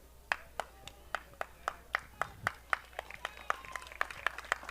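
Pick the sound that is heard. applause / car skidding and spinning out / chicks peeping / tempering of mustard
applause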